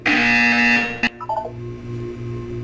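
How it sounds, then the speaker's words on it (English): Portal 2 test-chamber buzzer: a loud, sustained tonal electronic buzz for about a second that cuts off abruptly, followed by quieter ambient hum and a few faint electronic blips. "You will hear a buzzer."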